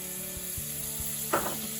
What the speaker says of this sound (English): I'm going to add about 2 tablespoons of butter